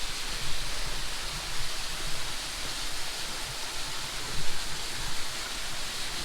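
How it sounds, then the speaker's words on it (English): Waterfall on a forested hiking trail, a loud, steady broadband rush of falling water filling the whole clip, close by and unbroken, with no talking. "We gotta walk under the waterfall."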